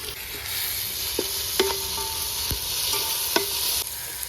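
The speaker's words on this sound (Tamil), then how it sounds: "இந்த ஸ்டேஜில் தான் நம்ம வந்து இஞ்சி பூண்டு பேஸ்ட்டு சேர்க்கணும்" Ginger garlic paste frying with onions in a pan for chicken dum biryani, a steady sizzle with a few sharp clinks and scrapes of a spoon stirring, close and moderately loud with no talking.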